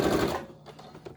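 Sewing machine back stitching a medical face mask, a dense rapid mechanical whirr for about a third of a second, then stopping with a few faint clicks and handling sounds afterward.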